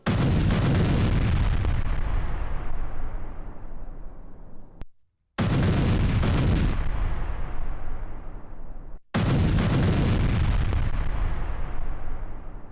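Explosions from an Israeli strike on Hezbollah sites in Lebanon roar as loud, continuous rumbling blasts that flatten over twenty buildings in a residential area, with two brief cuts splitting the sustained booming into three long bursts.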